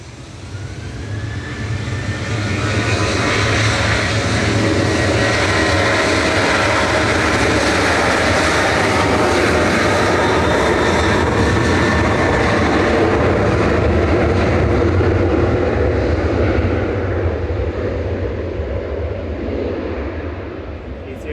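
A Boeing 737-800 jet airliner on Casablanca-bound flight 819 at Manchester Airport gives a loud, steady, broadband jet engine roar that holds through the whole stretch and eases off slightly near the end.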